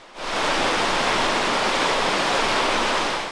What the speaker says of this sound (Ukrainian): А це підземна річка, яка й утворила всі шість поверхів печери.